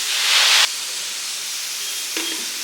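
A pressure cooker on a kitchen stove, cooking lentils with tomato, onion and green chilli, releases a loud burst of steam hiss for about half a second. The hiss cuts off abruptly, leaving quiet room noise.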